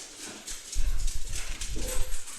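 Dogs barking in the background, a run of repeated sharp barks at moderate distance, fairly loud and continuous, with no talk over them.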